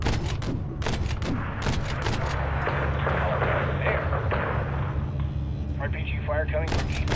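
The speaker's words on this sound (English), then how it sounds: "RPG fire" Incoming RPG fire near an aircraft hangar in the Modern Warfare 3 campaign: a rapid burst of sharp blasts and booms up front, then rumbling combat under radio chatter and voices.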